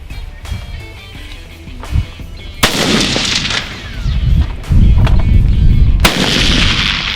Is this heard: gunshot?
yes